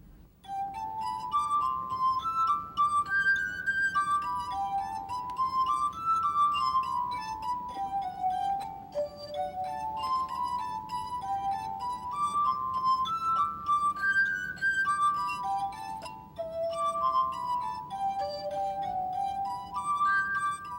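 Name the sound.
glass harp of brandy snifters playing Bach's Jesu, Joy of Man's Desiring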